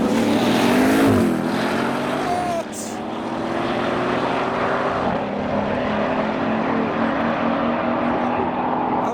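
A Bowler Land Rover Defender at a drag race, its engine roaring loud and steady with rising harmonic tones as it accelerates down the strip, blending with other vehicle noise and some crowd or commentary voices.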